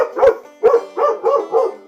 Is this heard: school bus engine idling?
no